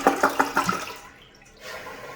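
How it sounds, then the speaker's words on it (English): A toilet's small, low-volume flush: a short gurgling rush of water with a few rhythmic surges, fading to a quieter trickle and refill hiss, heard up close in a bathroom. "That was a little flush."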